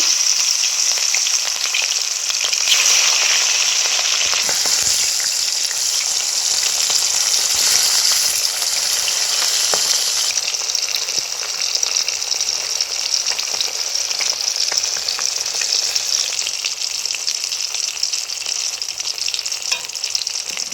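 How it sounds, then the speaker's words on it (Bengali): Rohu fish pieces frying in hot oil, giving a loud, steady, bright sizzle that hisses without pause throughout, with faint crackles and no voices. "বাকি দু পিস মাছ আমি ভেজে নিচ্ছি"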